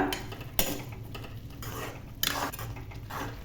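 Jaggery melting in a pan for semiya kesari is stirred steadily, a spoon scraping and clinking against the metal in close, repeated strokes with a few sharper knocks, no talk over it.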